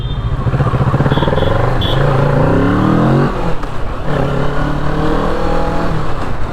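A Kawasaki Z650 motorcycle accelerates hard on a ride, its loud close engine note climbing in pitch, dropping briefly at a gear change, then rising again.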